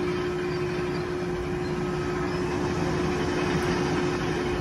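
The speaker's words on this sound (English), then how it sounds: "That noise you hear, that's the chip sliding down the back of the trailer." Wood chips slide down the bed of a tilted semi chip trailer while it dumps at a mill, a steady loud rushing hiss with a constant low rumble and hum underneath, no voices.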